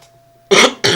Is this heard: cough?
yes